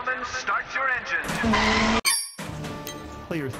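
Arcade-style racing sounds from a pinball or video game, with race car engines revving and tires squealing in short loud bursts, mixed with electronic game effects and a brief announcer-like voice.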